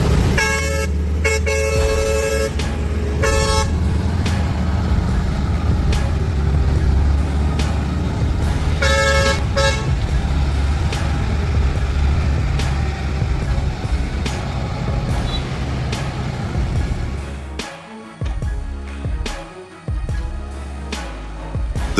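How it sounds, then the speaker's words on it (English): A giant off-road truck labours up a steep mountain slope, its engine roaring loudly and steadily throughout, with several horn toots sounding in the first half and a brief dip near the end. "The roar of the engine echoed throughout the mountainous area."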